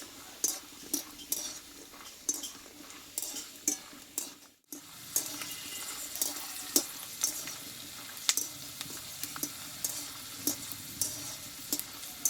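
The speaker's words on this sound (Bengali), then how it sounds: "এই বাদামটা আমি একটু ভেজে নেব তেলে" Peanuts frying in oil in a pan for a vegetarian pumpkin dish: steady sizzling with regular stirring clicks and scrapes, one brief pause, no talking.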